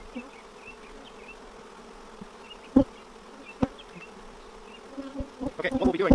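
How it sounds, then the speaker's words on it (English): A dense, low buzz of many honeybees inside a wooden hive box hums close by, with occasional knocks and soft bumps against wood. "we'll be doing is shaking all of the bees from this box into a new box over here"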